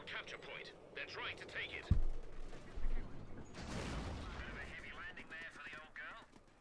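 Automatic MG34 machine-gun bursts from the Company of Heroes 2 strategy game, heard as a sharp burst near two seconds and more crackling fire mixed with battle noise, all under continuous play-by-play commentary.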